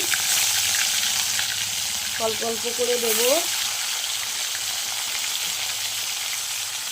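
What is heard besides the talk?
fish frying in hot oil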